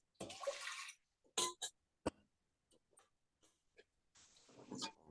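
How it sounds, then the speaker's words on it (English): Sushi rice rinsed in a strainer and shaken back and forth, giving bursts of wet, gritty swishing with short pauses between, close and fairly quiet. "So I'm just using a strainer and going back and forth and back and forth."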